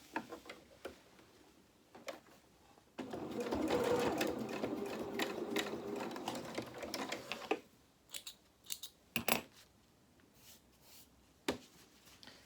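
A sewing machine runs a short burst of stitching, putting in tacking threads on a fabric doll head, bracketed by small ticks and handling clicks before and after; fairly quiet and close.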